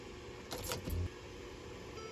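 Ford Flex cranking and starting after an overnight trickle charge, a brief burst of starter and engine noise lasting about half a second, close by, followed by a steady low hum.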